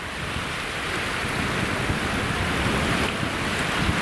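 Stormy weather at sea brings a steady, loud roar of wind and crashing surf, with gusts buffeting the microphone throughout and no voices.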